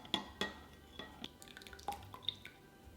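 A Thai noodle salad dressing of lime juice, palm sugar, chili and garlic is stirred in a bowl, giving quiet, irregular clinks and light scrapes close by.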